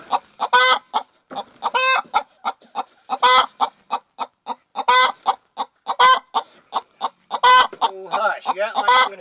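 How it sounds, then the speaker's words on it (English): A hen clucks repeatedly in a nesting box in a backyard chicken coop, sharp agitated clucks and squawks coming in an irregular series, close and loud, with no talking over them. "Chicken's mad at me for disturbing her."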